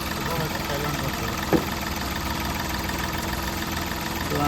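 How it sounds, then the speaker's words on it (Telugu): A 2015 Hyundai Grand i10 Magna diesel engine idles steadily with a continuous even rumble, heard close up in the open bonnet, with one brief knock partway through. "ఇంజన్ బీటింగ్ ఏదైతే వస్తుంది సౌండ్ వస్తుంది"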